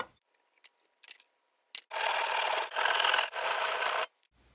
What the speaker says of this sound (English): now I'm going to remove parts of the handle that are in my way.